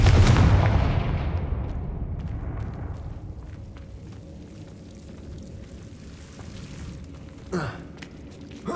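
A Confringo fire-curse blast in Hogwarts Legacy bursts loudly up front, then rolls off into a long rumbling decay, with a smaller crackling flare and pop of spell effects near the end.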